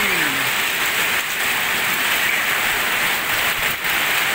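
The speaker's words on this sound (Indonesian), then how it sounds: "Waduh, ketampias, kena angin, kena hujan ini." Heavy rain driven by strong wind pours down hard and close, a dense, steady hiss and patter that stays loud throughout with no voices.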